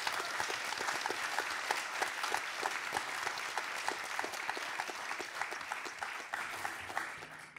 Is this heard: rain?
no